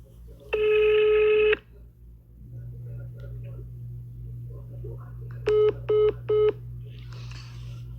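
A telephone rings indoors with a short, loud electronic burst followed by three brief repeated tones, over a steady low hum and faint background voices.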